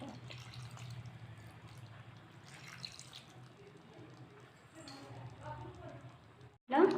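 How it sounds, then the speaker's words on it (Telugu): Water poured into a pan of goat head meat curry seasoned with chilli powder, a soft, steady trickle under a faint voice, ending in a brief louder burst. "వాటర్ యాడ్ చేసుకోవాలి."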